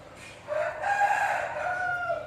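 A young rooster crows once, close and clear, in a single drawn-out call that rises and then trails off.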